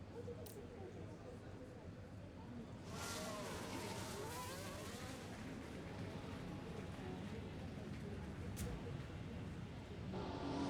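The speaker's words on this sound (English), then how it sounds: "We've got some cars heading out." Race cars head out onto the track during Grand Prix qualifying, a low, quiet engine drone that rises and thickens partway through, under faint background noise.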